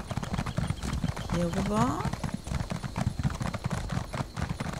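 Horse hooves clip-clop steadily at a trot while riding in The Elder Scrolls Online, close and continuous, with a brief whinny partway through and someone speaking German over it.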